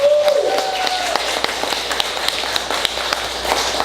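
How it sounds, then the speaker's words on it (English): Applause at a concert event: scattered clapping from a crowd fills the space at moderate loudness, with a sliding tone fading out at the start. "can we give a round of applause for Abdul Ali for putting this together?"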